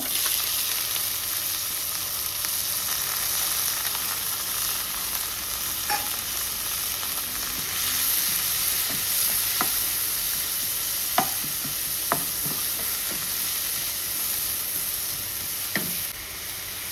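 Sliced onion fries in a little oil in a hot pan, a steady close sizzle broken by occasional clicks and scrapes of a spatula stirring, without talk.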